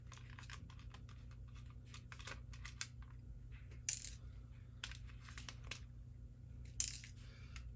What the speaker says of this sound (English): I'm going to take the screws out of the safety on this side.